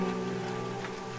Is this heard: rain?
yes